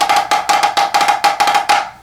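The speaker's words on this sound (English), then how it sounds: "This is a sticking pattern that I call 3-2 because you're playing 3 beats with one hand" Drum sticking in a 3:2 pattern, one hand playing triplets against two beats in the other, a rapid, tightly clustered series of sharp ringing hits that repeats evenly and loudly up close.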